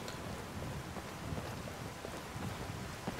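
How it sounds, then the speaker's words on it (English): In the video game Skyrim, steady rain hisses throughout, with a low rumble of thunder and wind beneath it. The sound is fairly quiet and continuous. "Uh-oh, I wasn't expecting rain."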